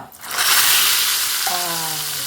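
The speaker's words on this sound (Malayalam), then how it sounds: "ഉണ്ടമുളക് കറിവേപ്പില ഒരു മണി ഉലുവ കടുക് ഒരു ടേബിൾ സ്പൂൺ വെളിച്ചെണ്ണയിൽ വറുത്തോട്ടാം" Dried red chilies, curry leaves, fenugreek and mustard seeds hit a tablespoon of hot coconut oil, producing a loud, sudden burst of crackling sizzle that holds steady and close, with a brief ringing tone partway through.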